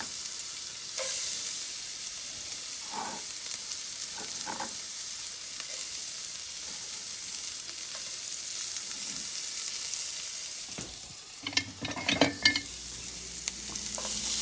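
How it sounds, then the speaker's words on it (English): Garlic and shallots frying in hot butter give a steady, even sizzle throughout. Near the end, a few brief utensil clicks and scrapes stand out, and nobody speaks. "once your butter is nice and hot, you're just going to take your garlic and your shallots, and you're just going to get those right in there."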